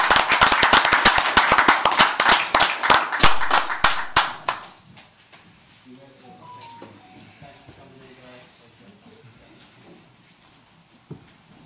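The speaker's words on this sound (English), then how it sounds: "If we could give our two new officers a round of applause to welcome them." Audience applause at a city council meeting, a dense burst of clapping for two new officers that lasts about four seconds and then fades out, followed by quiet room noise and faint voices.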